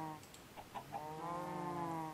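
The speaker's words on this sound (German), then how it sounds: "Hühner, yay!" Chickens in Minecraft give a few short clucks, then one longer drawn-out call, close and fairly quiet with no talk over them.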